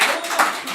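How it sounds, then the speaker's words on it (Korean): Congregation clapping at a Korean church communion service, a short burst of dense applause from the gathered worshippers, moderately loud and steady with no voice over it. "박수 소리가 너무 작다"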